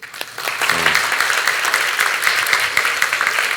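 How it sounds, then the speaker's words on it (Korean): A church congregation claps in encouragement, a dense burst of applause rising quickly after a few scattered first claps and holding steady to the end. "우리 다시 한번 격려의 박수로"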